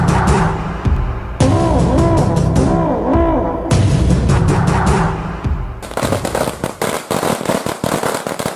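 Gunshots in a comedy skit ring out as several sharp, loud bangs, some in quick bursts, set against a background music track.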